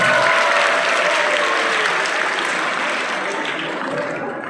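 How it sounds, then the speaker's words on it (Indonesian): An audience of high-school students applauds at an Isra Mi'raj religious gathering at SMAN 1 Nagrak, with dense, steady clapping filling the hall from start to finish and tapering only slightly at the end. "Tepuk tangan buat kita semua."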